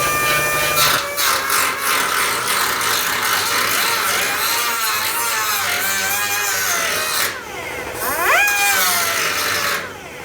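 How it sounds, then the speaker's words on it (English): A power grinder grinds a weld flat on a Chevy pickup body panel, giving a loud continuous rasping whine whose pitch dips and rises as pressure changes, with a brief easing near the end. "Now we're gonna grind the weld down flat."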